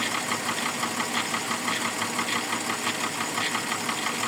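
A VW T4 van engine idles steadily during an oil change, a continuous close mechanical drone with a faint regular knocking pulse and no talk.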